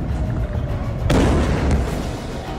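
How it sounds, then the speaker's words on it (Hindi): An Iranian missile strikes the city of Haifa: a single deep explosion booms out suddenly over steady background noise, then rumbles and slowly fades. "1500 किलोमीटर दूर ईरान से लॉन्च होने के बाद ये इराक, जॉर्डन और सीरिया के आसमान से गुजरी और हाइफा शहर पर टूट पड़ी।"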